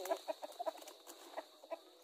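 Free-range Rhode Island Red chickens clucking close by, a quick irregular run of short clucks and murmurs over a faint steady hiss.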